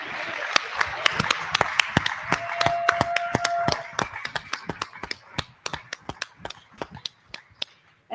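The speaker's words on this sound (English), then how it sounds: "We need to applaud you." At a general-session keynote, an audience breaks into scattered applause that thins into a few distinct, loud nearby claps at irregular intervals, with some voices underneath early on.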